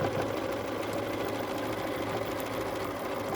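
A sewing machine runs steadily, stitching quilt fabric in a quilting session, a fast continuous mechanical whir held close and even for its whole length with no talk.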